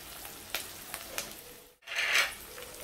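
Onion, corn and carrots fry in a pan with a gentle, steady sizzle, interrupted by a few scraping stirs, a brief hush, then a louder burst of hissing near the end.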